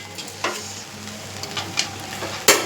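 Cooked rice being stirred and tossed in a hot frying pan, with a steady low sizzle and a few scraping clinks of a spoon against the pan, the loudest near the end.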